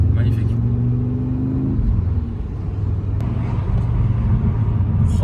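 A tuned Volkswagen Golf 7R engine idles with a deep, steady rumble, close and loud, with a slight revving swell midway.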